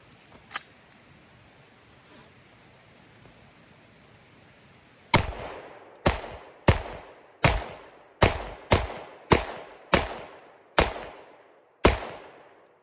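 SIG Legion P229 pistol fired ten times at a range, sharp loud reports spaced roughly half a second to a second apart, each with a short decaying echo, following a quiet lead-in with a single earlier shot.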